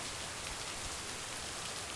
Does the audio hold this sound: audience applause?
no